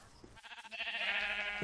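Sheep in the Minecraft video game bleat in a series of wavering, nasal cries, loud and close, with a short choppy start that breaks into a sustained bleat.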